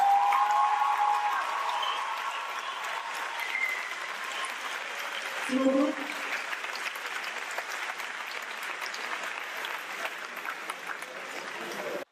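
Audience applause and cheering for a man fighting cancer, a steady crowd clapping that fills the whole stretch at moderate loudness, with a brief voice thanking them partway through.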